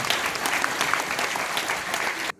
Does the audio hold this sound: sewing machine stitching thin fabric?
no